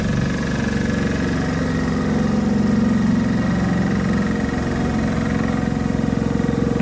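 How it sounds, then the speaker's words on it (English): An Anova chamber vacuum sealer runs with a steady motor drone and airflow hum, first blowing air in and then pumping the chamber down. The sound is close and continuous, with no talking over it. "Actually blows air in. Appears to be blowing it in. It says vacuuming"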